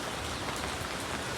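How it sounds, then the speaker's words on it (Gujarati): Steady rain falling in a dense, even hiss of countless drops striking surfaces, close and continuous throughout with no voices. "વરસાદ તો ચાલુ છે જોઈ લો"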